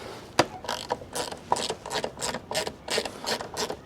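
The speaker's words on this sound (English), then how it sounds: "it is a 10mm socket. I'm going to just undo these two sockets here." A 10mm socket ratchet clicks in quick, repeated bursts while undoing mirror bolts on a motorbike, close and fairly quiet, with no talking.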